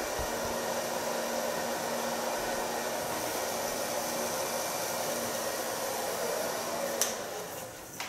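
A hair dryer blow-drying short hair in a salon, a loud, steady close whoosh of rushing air holding throughout, with a small clack near the end.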